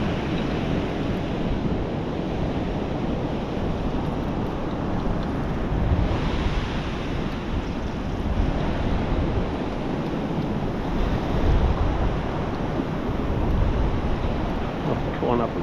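Waves breaking continuously on a flat beach with no gutters, a dense, steady roar of surf nearby with gusts of wind hitting the microphone and small swells in loudness.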